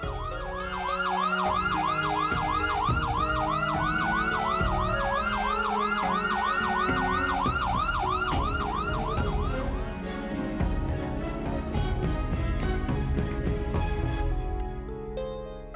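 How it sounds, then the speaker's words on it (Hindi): An ambulance siren wails loudly and continuously close by, its rising and falling tone cycling rapidly, as the vehicle arrives at a house; dramatic music and engine rumble sit beneath, and the siren fades out after about ten seconds. "अरे ये एम्बुलेंस किसके घर पे आई है?"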